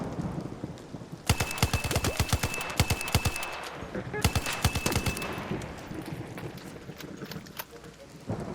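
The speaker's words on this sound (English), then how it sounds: "The way those shots were coming over my head" Gunfire in the ARC Raiders video game crackles in two rapid automatic bursts of sharp, loud shots, followed by quieter scattered reports as the firing tapers off.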